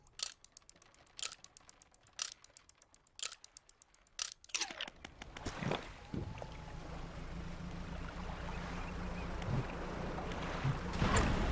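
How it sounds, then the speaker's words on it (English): Boat jet drive engine in the fishing game Dredge, starting after a few clicks and rising into a steady, loud roaring drone with rushing wash that holds and builds toward the end, with no talk over it. "Jet drive engine."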